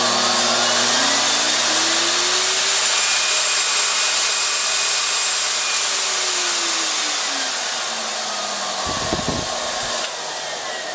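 A variable-speed dog blow dryer running at up to four horsepower to dry a dog, a loud steady whooshing roar with a faint rising and falling tone, briefly interrupted near the end.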